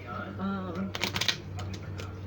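Tarot cards are shuffled in a quick burst of crisp riffling clicks that follows a stretch of close talking, with softer card taps trailing after.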